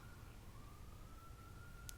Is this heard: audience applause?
no